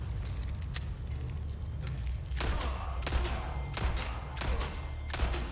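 Gunfire in the Resident Evil 4 Remake video game: a few faint pops at first, then a run of sharp, loud shots at irregular intervals over a low, rumbling game soundtrack.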